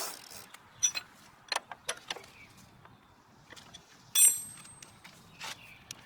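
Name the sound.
bicycle pedal being threaded and tightened onto an e-bike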